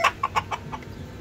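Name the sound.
rooster and hen clucking on a poultry farm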